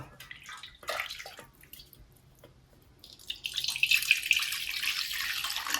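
Hot water pours and splashes into a container at close range, faint and trickly at first, then a steady, louder rush of flowing water in the last few seconds, with no talking.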